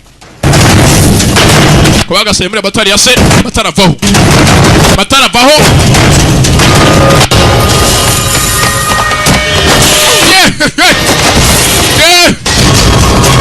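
Bomb explosions and bursts of gunfire from an action film's dubbed soundtrack boom loudly and almost without pause, while a narrator's voice talks over the battle noise.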